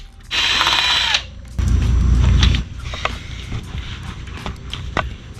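A socket wrench with a wobble extension ratcheting on a bolt during a Delkevic exhaust install on a Kawasaki Ninja 650, two loud close bursts of clicking followed by fainter intermittent clicks and taps, no talking.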